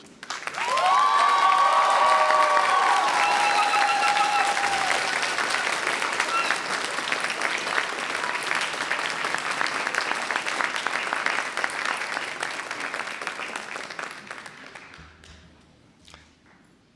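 A graduation audience at the University of Aberdeen bursts into loud, sustained applause mixed with cheers and a few whistles, holding steady for many seconds before tapering off to quiet at the end.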